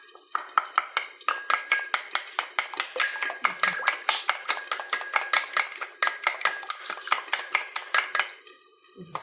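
An egg is cracked and beaten with a utensil against a bowl, giving a fast, steady run of sharp clinking strokes at close range with short pauses between bursts.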